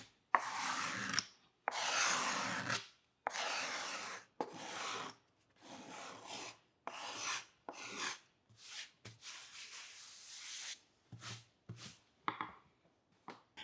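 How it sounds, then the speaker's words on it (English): A card scraper smooths the wooden body of a hollow-body guitar in repeated short scraping strokes, close and dry, with brief pauses between passes and the strokes growing shorter and lighter toward the end. "To finish it, I'll use a card scraper to even it out and remove all the tool marks."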